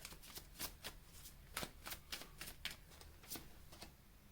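Tarot cards are shuffled and drawn in a series of quick, crisp riffling flicks and slaps. The bursts are irregular and close but quiet, and no voice is heard.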